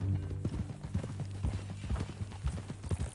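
Horse hooves clip-clopping in a steady walking rhythm during a ride in a Western video game, close and fairly quiet, with a low hum of background sound.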